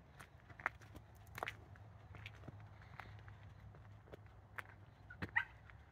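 A dog barks a few times in short, sharp bursts at a moderate distance at Echo Amphitheater, Ghost Ranch, with footsteps and outdoor background noise in between.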